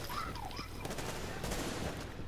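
Rapid gunfire in a first-person shooter game, aimed at the player: dense crackling bursts that run almost continuously, with some tonal game effects early on.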